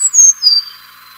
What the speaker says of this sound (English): Sakhalin leaf warbler.